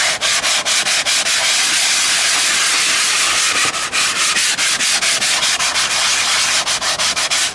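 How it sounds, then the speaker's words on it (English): Loud, close abrasive rasping of a coarse sanding pad contouring the nose section of an RC model airliner, rubbing continuously with quick strokes and short breaks, no talking. "I'll take the sanding pad and I'll start"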